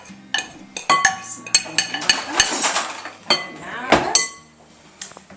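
Metal utensils clink and rattle in a home kitchen while a spatula is taken out, with a string of light, irregular taps and chinks at close range and a short scraping flurry near the end.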